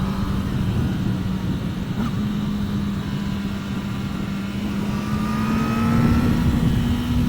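A 2024 Kawasaki Ninja ZX10R on stock Bridgestone tires rides along a road, its engine holding a steady drone that rises slightly near the end, with strong wind rush throughout.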